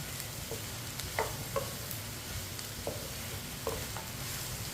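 Ridge gourd (tori) pieces fry in oil while a spoon stirs them. There is a low, steady sizzle with a few soft scraping knocks spread through it, and no talking.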